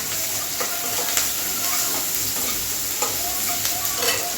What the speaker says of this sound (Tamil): வெங்காயம் வணங்குறதுக்கு கொஞ்சம் உப்பு லைட்டாக அதில் போட்டுருங்க. போட்டு நல்லா வணக்கி விட்டுருங்க.